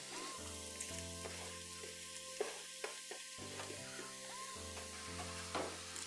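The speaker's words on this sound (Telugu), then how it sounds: "ఈ ఆయిల్ కొంచెం హీట్ ఎక్కిన తర్వాత మనం కట్ చేసి పెట్టుకున్న ఉల్లిపాయలు, పచ్చిమిరపకాయలు దీనిలో వేసుకోవాలి." Chopped onions and green chilies fry in hot oil in a kadai for a Kerala-style prawn masala curry, giving a steady, close crackling sizzle with occasional sharper pops over a low tonal background hum.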